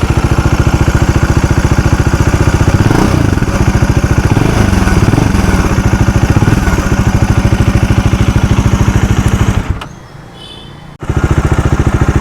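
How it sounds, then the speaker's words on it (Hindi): A Bajaj Dominar 400 motorcycle with a dual-barrel exhaust idling and being revved, a loud, rhythmic thumping single-cylinder note that rises briefly and drops out for a moment near the end before resuming. "जैसे कि आप स्क्रीन पे या आप ऑडियो पे सुन रहे हैं इसका एग्जॉस्ट"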